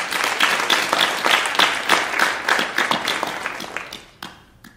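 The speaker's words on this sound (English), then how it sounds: "Round of applause for all of our amazing panelists" An audience applauds panelists at a Women's History Month conversation event, with dense, loud clapping that gradually thins and fades to a few scattered claps at the end.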